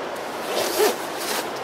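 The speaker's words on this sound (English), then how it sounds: "Zip this up." A single quick zipper pull, a short rasping zip of a 5.11 rain shell jacket, close and fairly soft.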